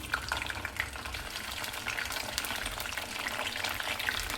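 Prawn pieces frying in hot oil for a spicy Nagpur-style Saoji prawn dish, a dense, continuous close sizzle with fine popping crackles and no talking.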